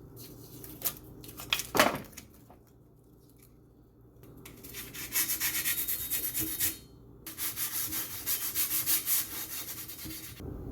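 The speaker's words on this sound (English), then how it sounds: "grit sandpaper, and I'm just using this one because it's the one I've got 3 of." Hand sanding with grit sandpaper on a rusty surface in a shed: irregular scraping strokes, a few sharp knocks early on, then sustained rhythmic back-and-forth rubbing, close and fairly loud.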